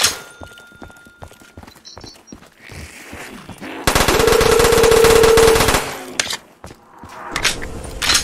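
Video game gunfire on a live stream: scattered sharp single shots, then a loud sustained burst of rapid automatic fire lasting a couple of seconds, followed by more shots.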